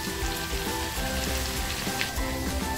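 Cumin seeds frying in hot oil in a pan: a continuous crackling sizzle with scattered pops, close and even in loudness.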